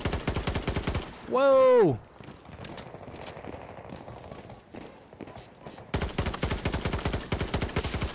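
Rapid automatic gunfire in the shooter Battlefield 2042 rattles in fast regular bursts at the start and end, close and loud, with a brief exclaimed shout and quieter battle noise in between.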